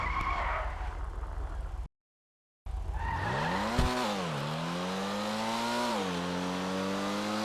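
A Pfister Comet sports car in GTA 5 Online breaks into a high-speed drift, tires squealing loudly and steadily with a rising and falling whine over the engine, after a brief gap of silence.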